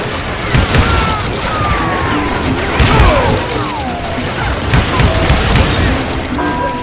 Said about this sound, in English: Shoot him, Emmett